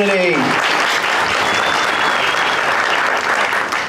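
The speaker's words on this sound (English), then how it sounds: "And if you can keep that applause going" Crowd applause at an outdoor Flag Day celebration in Batavia on June 14, 2024, with a community band present; dense, steady clapping fills the whole stretch, loud and sustained with a voice briefly heard at the start.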